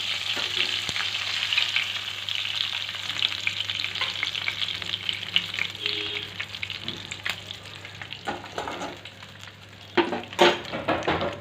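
The rest of the prawns hit a hot pan and fry with a continuous close sizzle, occasional clinks of a utensil against the pan, and bursts of louder spitting near the end, with no talking.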